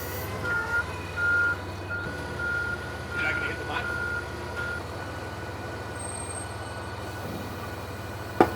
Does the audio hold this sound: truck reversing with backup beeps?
yes